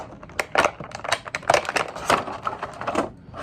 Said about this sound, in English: Looks like I'm going to need the special scissors.